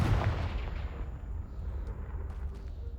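A Confringo blasting spell goes off in Hogwarts Legacy, a loud low boom at the start that rumbles and decays over a few seconds, with faint crackling debris afterward.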